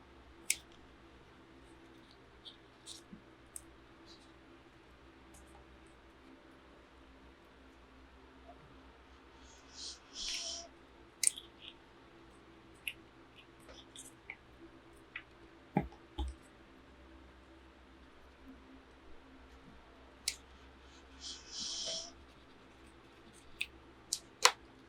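Scissors snip open reptile eggs, with scattered soft clicks and a few short crisp snipping bursts, close and faint against a quiet room hum.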